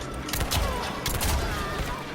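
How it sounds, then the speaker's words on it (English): Erron Black's gunshot string in the Mortal Kombat fighting game: several sharp, quick shots crack out in a cluster over a steady bed of game noise. "the 2 gunshots afterwards are high, but the first shot is a mid"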